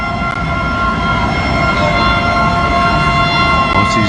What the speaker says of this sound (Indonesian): Ini mobil pemadam kedua dan ketiga sudah sampai.